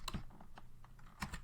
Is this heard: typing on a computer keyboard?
yes